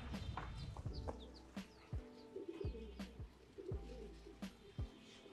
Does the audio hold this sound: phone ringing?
no